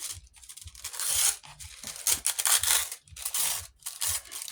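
Paper tearing up close in several quick rips with short pauses between, crisp and rustling, no voices.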